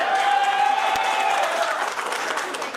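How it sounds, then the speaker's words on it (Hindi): Applause from girls in an audience at a comedy show in Karachi, a steady wash of clapping filling the whole stretch, with a faint sustained tone and some crowd murmur underneath. "ये तो लड़कियों में तालियां बजाएं"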